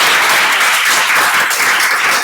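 Audience applause fills a conference hall at a law forum, a dense, loud, continuous wash of clapping from many hands with no pauses.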